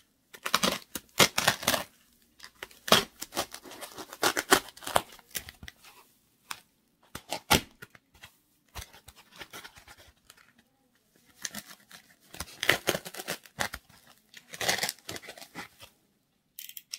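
Scissors snip through craft material for a gnome project, a series of close, crisp cutting clicks in irregular bursts separated by brief quiet pauses and light rustling.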